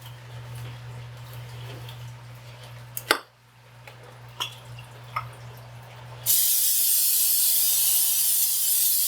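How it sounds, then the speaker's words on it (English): A few small clicks and taps, then a loud, steady hiss of cooking spray greasing a baking pan starts partway through and continues without a break to the end. "grease our pans with some Pam spray and some flour."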